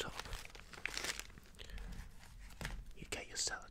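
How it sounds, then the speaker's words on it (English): Wrapping paper crinkles and crunches close to the ear in an ASMR Santa gift-wrapping roleplay, bursts of rustling coming in irregular handfuls over a soft, whispery background. "Crunch it all up like this on top."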